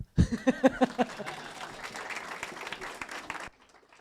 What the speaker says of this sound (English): And then, so then you can clap